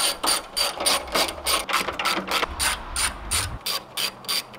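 A ratchet wrench loosens the headlamp mounting bolts on a Nissan Xterra, giving a steady run of quick, close clicking strokes with brief pauses between pulls and no voices.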